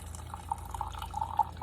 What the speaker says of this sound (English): And we're going to pour these juices into this teacup.